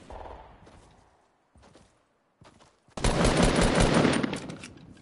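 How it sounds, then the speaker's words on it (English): Gunfire in the Fortnite video game: a few faint scattered shots early, then a loud, close, continuous burst of rapid automatic fire filling the final two seconds. "Wait, they're shooting at you?"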